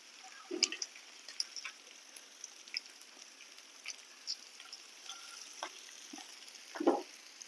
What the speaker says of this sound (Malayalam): മീഡിയം ഫ്ലെയിമിൽ വെച്ചിരുന്നാൽ മതിയേ. അതിരുന്നൊന്ന് മൂക്കട്ടെ.